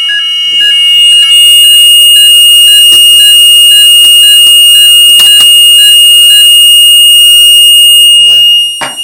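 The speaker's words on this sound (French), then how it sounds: "Ça veut dire que la sirène se déclenche." A siren sounds from a UNIVERSAL DET Europa 2016 fire alarm control panel triggered for general evacuation. The tone is loud, piercing and continuous, with scattered clicks over it, running about eight seconds before it cuts off.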